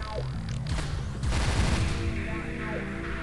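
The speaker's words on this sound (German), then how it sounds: "Boah, ich werde hier scharf beschossen." Rapid bursts of gunfire from the video game Descent 3 in a ship battle, loud overlapping shots and booming hits that crowd together in a dense volley through the middle, with no talk.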